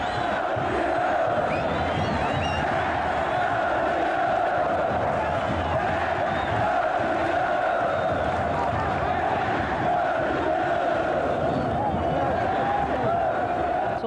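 Huge stadium crowd of Cruzeiro fans at the 1993 Copa do Brasil final against Grêmio, a continuous roaring wall of cheering and chanting, loud and unbroken from start to finish.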